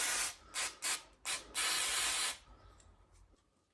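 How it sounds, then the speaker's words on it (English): Brake cleaner sprayed from an aerosol can onto a Yamaha TT600R motorcycle petcock during repair: several short hissing bursts, then one longer sustained spray, close and loud, fading to quiet. "So now I will clean everything with a brake cleaner."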